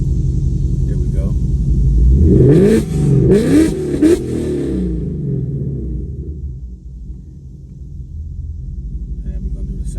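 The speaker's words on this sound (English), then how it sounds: "Now I'm gonna go to sport mode and give you a couple of revs." A 2024 Mustang GT V8 with Corsa Xtreme cat-back exhaust and Kooks catless long-tube headers, idling in sport mode, then revved sharply a few times in quick succession before settling back to a deep rumbling idle, loud and close.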